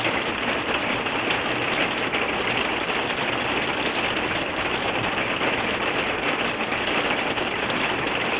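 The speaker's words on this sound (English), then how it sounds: "Similar rain to what we're having now." Steady rain falls in the evening before sunset under a shelf cloud, a dense, even hiss that stays constant and close throughout, with no voices.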